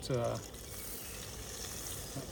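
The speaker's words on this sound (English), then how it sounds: "butter going in the right direction, and just wait for this sizzle" Butter sizzles and crackles softly in a hot pan before a ribeye is cooked, a faint steady hiss after a short spoken word at the start.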